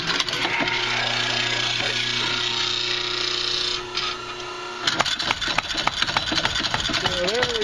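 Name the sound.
homemade bench top power hammer running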